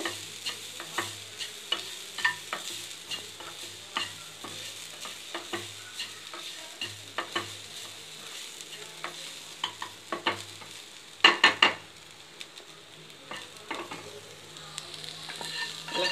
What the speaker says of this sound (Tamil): வெங்காயம் போட்டு நல்லா வதக்கிட்டு